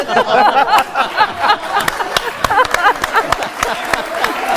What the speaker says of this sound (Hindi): ताली हो जाए भाई के लिए।